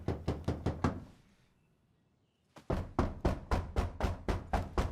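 Rapid series of loud, close knocks on a door, a burst of about six raps, a pause of silence, then another long run of steady knocking.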